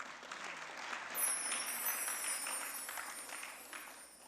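A seated audience claps at a religious discourse during a temple Patotsav celebration. The applause is a soft, distant patter that swells briefly and then tapers off, with no one speaking over it.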